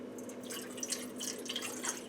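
Warm water, one cup for a bread sponge with rosemary, trickles and drips into a bowl in a kitchen, a soft steady patter with small splashy drops, close and fairly quiet, no talking.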